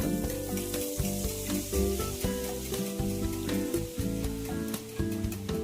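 Gram flour batter drops into hot oil as boondi for motichur laddu, making a dense, constant bubbling sizzle that runs beneath a steady layer of music.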